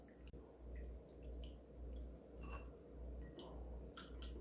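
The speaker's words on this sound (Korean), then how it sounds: "조물조물해서 전분기를 좀 빼서 채반에서 물기를 좀 빼줄게요" Soaked, julienned potatoes draining in a colander give off faint, scattered drips and small trickles of water, soft and close, over a low steady background hum.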